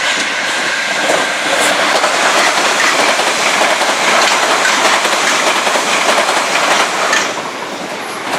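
A fast train rushes past beneath the Wimbledon footbridge, a loud, sustained roar of wheels and carriages with rattling clatter that holds steady for several seconds before easing slightly.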